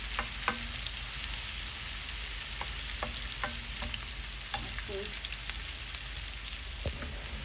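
Onions frying in a pan in a home kitchen, a quieter, even sizzle punctuated by scattered clicks and taps from stirring, with no talking.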